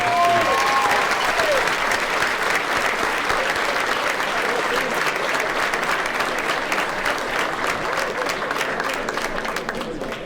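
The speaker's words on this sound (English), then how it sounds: "Let's have a round of applause for our" Sustained, dense applause from an audience at a sports hall of fame induction ceremony, steady and loud throughout with a few voices cheering within the crowd.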